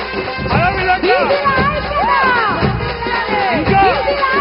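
A crowd at a BC Yuddha Bheri political rally cheers and shouts as a politician enters, a loud, dense roar of massed voices with whistles and calls rising and falling, continuous throughout.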